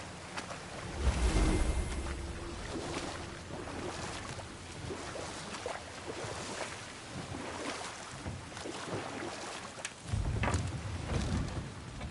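A boat moves across water in God of War, with steady lapping and sloshing, soft rushing wind and a few louder swells near the start and near the end.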